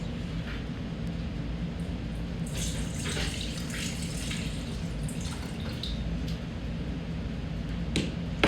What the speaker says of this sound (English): First, pour in the regular milk.